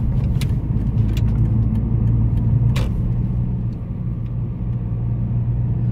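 A steady low diesel engine drone from inside a moving BMW 320Cd E46, with constant road rumble and a few faint rattles.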